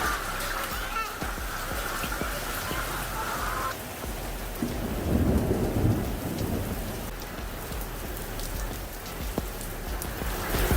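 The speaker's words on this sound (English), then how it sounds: "we just had severe thunderstorms rolling through over the last couple of days" Steady heavy rain pours down during a severe thunderstorm on the Gold Coast, with a low rolling rumble of thunder swelling midway through under the constant hiss of the downpour.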